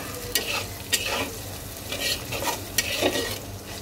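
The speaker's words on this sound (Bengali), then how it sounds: "তো রসুনটা ভাজা হওয়ার জন্য একটু সময় দিতে হবে" Chopped garlic and green chilies fry in hot oil in a pan, a steady sizzle broken by several sharp scrapes and taps from stirring, close and alone.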